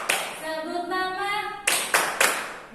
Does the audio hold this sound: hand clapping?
yes